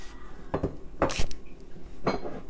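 White flour and spices being mixed in a bowl for crispy fried whitebait fish, with a few distinct scraping clinks of a utensil against the bowl, close by and irregular, with no talking.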